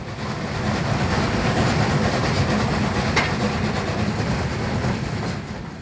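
A steam train leaving Chama climbs the 4% Cumbres grade, its heavy rumble and rolling wheel noise swelling and fading as it passes, with a brief sharp hiss midway and no voices.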